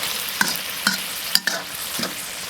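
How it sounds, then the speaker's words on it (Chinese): Braised pork belly with fried tofu puffs being stirred in a wok over high heat as the sauce reduces, with soft sizzling broken by four or five distinct spatula scrapes at a steady pace. "我们现在呢是大火收汁了，来给它翻"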